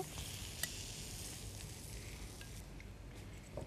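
Ghee heats in a hot pan for a sauce to go with crispy fried fish and green mango, giving a soft, steady sizzle with faint crackles and a couple of brief pops, fairly quiet throughout.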